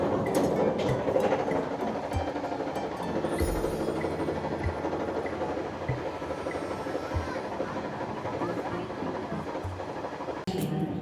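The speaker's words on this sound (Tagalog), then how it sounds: "ito na yung train na sasakyan ko" A commuter train in Seattle rumbles along with a steady, moderately loud drone, faint wheel clacks and occasional clunks and rattles from the car, with no talking over it.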